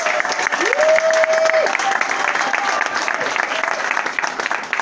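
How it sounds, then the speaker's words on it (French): A crowd at a UDPS party committee gathering in Mont-Amba bursts into sustained applause, dense and close, with a faint whistle rising over the clapping. "Encore une fois, veuillez vous applaudir."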